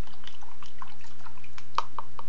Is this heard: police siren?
no